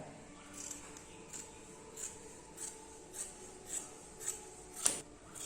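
Scissors cutting fabric for a frock, a series of soft, evenly spaced snips close by and faint.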